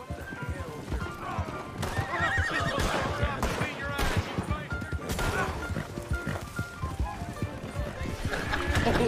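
In a Wild West roleplay video game, a horse whinnies loudly while hooves clop in a busy, running rhythm, with scuffling impacts and people talking over the commotion.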